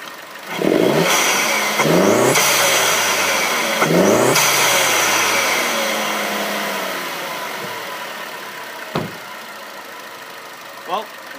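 A turbocharged 2014 Chevy Sonic LT fitted with a K&N cold air intake revs sharply three times in quick succession near the intake, then settles to a quieter idle with a couple of faint blips.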